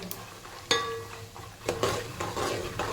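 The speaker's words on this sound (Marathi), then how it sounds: "शेंगदाणे कच्चे ठेवू नका व्यवस्थित त्याला भाजून घ्या" Raw peanuts are stirred as they roast in a dry pan at home, giving a soft scraping rustle with a sharp metallic clink near the start and a few brief scrapes later.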